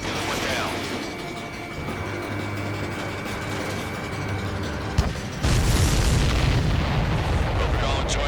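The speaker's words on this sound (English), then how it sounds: "Did you see that explosion?" A supply ship blows up in the Ace Combat 7 flight game, a sudden loud boom partway through that swells into a sustained roaring rumble over steady jet engine drone, with a voice speaking over the noise.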